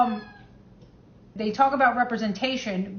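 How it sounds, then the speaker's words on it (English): A house cat meows briefly near the microphone, a short harmonic cry at the start, followed by a pause and then someone talking. "Sorry about my cat, everybody."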